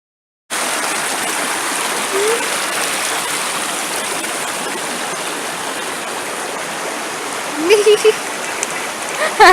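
A river cascade in southern Oregon rushes steadily and loudly close by, a continuous wash of falling water, with a few faint voices over it near the end.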